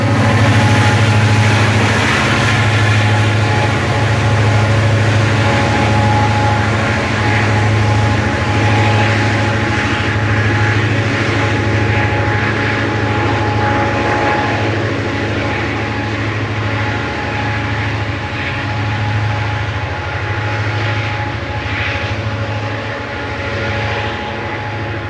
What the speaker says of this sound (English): A number of piggyback flats with J.B. Hunt semi-trailers bring up the rear of the train.